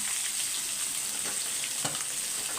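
Peeled potatoes fry in oil with fennel seeds and curry leaves on a low flame, sizzling steadily up close with a few soft stirring scrapes.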